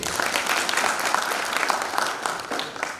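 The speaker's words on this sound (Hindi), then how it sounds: "एक बार जोरदार ताली इसके लिए।" An audience at a parenting seminar breaks into hearty applause, a continuous patter of many hands at moderate volume with slight swells, lasting the whole short stretch.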